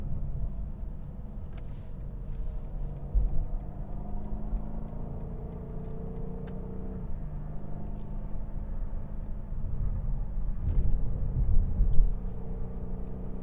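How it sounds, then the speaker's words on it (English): A 2019 BMW M850i xDrive engine rumbles and revs in a low gear at low revs, a steady deep drone from inside the car with a few sharp exhaust pops and crackles scattered through it. "you just let the exhaust pop while you're in lower revs"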